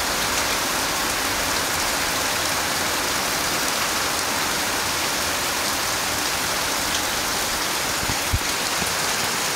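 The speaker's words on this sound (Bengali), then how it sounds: "দেখতেছেন অনেক বৃষ্টি হইতেছে, বৃষ্টির আওয়াজগুলা মোবাইলে বেশি আসতেছে।" Heavy rain pours in a steady, dense hiss, captured on a mobile phone, with only a faint thump near the end breaking the unbroken downpour.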